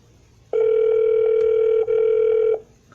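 A steady telephone tone during real estate cold-calling for listing appointments, loud and continuous for about two seconds with a brief dip near the end, and no voices.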